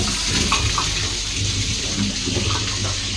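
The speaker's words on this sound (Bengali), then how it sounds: "এই যে সবজিগুলো ধুয়ে দিচ্ছে" Tap water runs steadily and fairly loudly while potatoes and pumpkin are rinsed, a continuous broadband gush with no talk over it.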